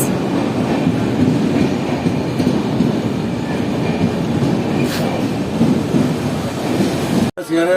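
The Avadh Assam Express pulls into platform 2 at Kishanganj railway station, a loud continuous rumble of rolling coaches close by that runs almost to the end.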